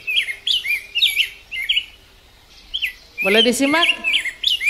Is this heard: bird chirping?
yes